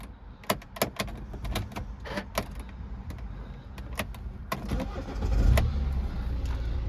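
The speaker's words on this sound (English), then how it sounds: "Start the car up." Clicks and a door thunk come from a silver BMW X1 xDrive 18d xLine with a 2.0 diesel and manual gearbox, then the engine starts and settles into a low, steady idle rumble.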